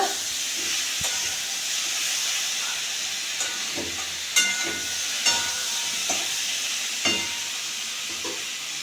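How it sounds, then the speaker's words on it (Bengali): Spices for a bata fish curry sauté in a pan with a constant hissing sizzle, punctuated every second or so by clinks and scrapes of a stirring spoon. "দু থেকে তিন মিনিট কষাবো তারপর জল দিয়ে দেব"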